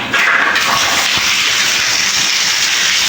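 Water rushes steadily from a freshly repaired shower, a loud continuous hiss and spray close by with no talk over it.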